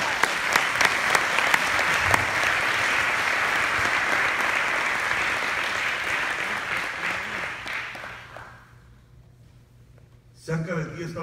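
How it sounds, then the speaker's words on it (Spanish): Congregation in a church clapping loudly and steadily for several seconds, dense and close, then fading out before a voice speaks briefly at the end. "Aplauden al Señor."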